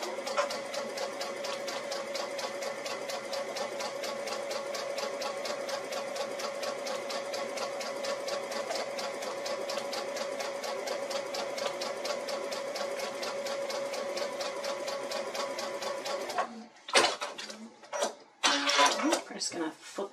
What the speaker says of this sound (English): I'm going to sew a seam down this side, I'm going to flip it around and sew a seam down this side